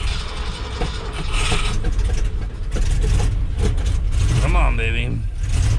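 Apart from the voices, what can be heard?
1973 Ford F250 truck engine cold start in freezing weather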